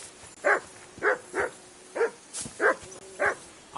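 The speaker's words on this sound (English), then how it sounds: "I assume you can hear that damn dog of yours barking." A dog barks in the video game Kingdom Come Deliverance 2, a run of about seven evenly spaced, fairly loud barks heard alone.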